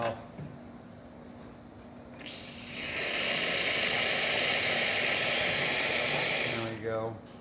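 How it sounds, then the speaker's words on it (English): A quiet hum gives way to a strong rushing hiss of water and steam from the hot water valve of a freshly serviced Quick Mill Alex Duetto espresso machine, which stops with a brief clatter. "Hot water valve."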